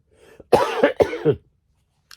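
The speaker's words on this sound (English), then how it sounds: "Sorry, I'm coughing." A few close, harsh coughs in quick succession, then quiet.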